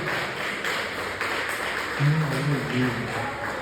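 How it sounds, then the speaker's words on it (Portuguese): A church congregation applauds loudly during a worship service, a steady wash of many hands clapping, with a voice rising briefly over it near the end. "Você pode aplaudir bem forte o Senhor Jesus?"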